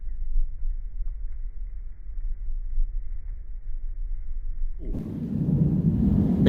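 A thunderstorm with a low, rumbling roll of thunder that builds, then a sudden loud crack and heavy rumble near the end, with steady background noise throughout.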